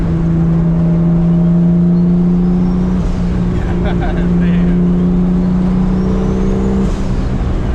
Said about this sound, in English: What do you think about the turbo spool? I like how it sounds.